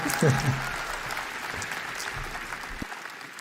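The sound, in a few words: timid applause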